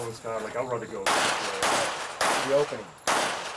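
Pistol shots at an outdoor IDPA shooting match, four sharp loud reports spaced about half a second to a second apart, with someone talking underneath between them.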